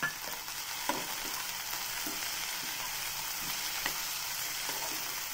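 Tomatoes and browned onions frying together in a pan for mushroom masala, a steady close sizzle with a few soft stirring knocks scattered throughout.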